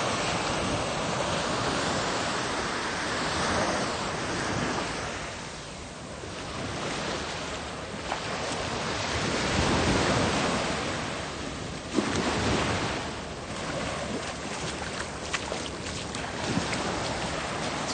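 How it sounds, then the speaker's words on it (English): Ocean waves wash in at an Australian beach while someone walks through the water, a broad surging roar that swells and recedes, with wind noise hitting the microphone. "Beautiful walking in the water"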